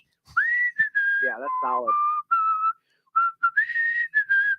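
Someone whistles through wet lips in a run of clear, sustained notes that slide between pitches, with a short buzzy vocal-sounding burst in the middle and brief pauses between phrases, close and fairly loud.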